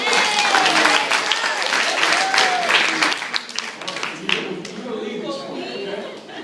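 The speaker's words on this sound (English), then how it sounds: "Give him a round of applause." Loud applause from a crowd, dense clapping that gradually thins and fades toward the end.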